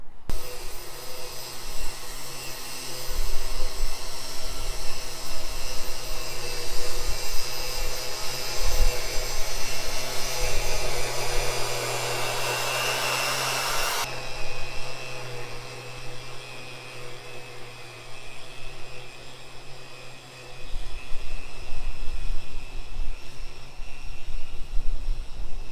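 A Sun Joe electric lawn dethatcher runs steadily on a lawn with a continuous motor whine and raking rasp, louder and harsher for the first half before the tone drops and settles into a lower, steady drone.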